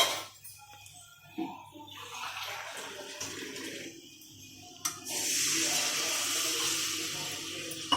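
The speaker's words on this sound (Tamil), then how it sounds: "டம்ளர் தண்ணி சேர்த்துக்கலாம்." Half a tumbler of water pours steadily into a pan of onion, tomato and potato masala, a broad rushing hiss that swells louder midway and keeps running, with faint clatter at the start.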